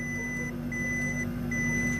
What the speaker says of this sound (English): what's that beeping coming from the booth over there?